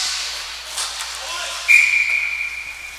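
A referee's whistle sounds during a floor hockey game, one sharp, sustained shrill blast partway through over faint crowd and arena hiss.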